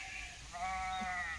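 A goat bleats once in a drawn-out, wavering cry beside a mown grassy field, rising over low background rumble and fading near the end.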